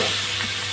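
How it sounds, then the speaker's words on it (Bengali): Crab pieces fry in a wok for a spicy Bengali crab curry, giving a dense, steady, close sizzle and hiss with no pauses across a very short moment. "এইটাকে আবার ভালো করে একটু ভাজতে হবে।"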